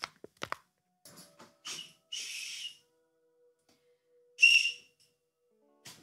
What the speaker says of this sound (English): Samba whistle.